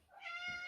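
A pet cat that slipped outdoors gives a single short, faint meow, rising then falling, with no other sound around it.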